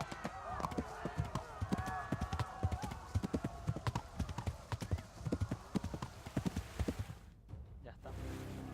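Horse hooves in the medieval video game Kingdom Come Deliverance clip-clop in a brisk, steady rhythm, loud and close, slowing and fading near the end, with faint background sounds.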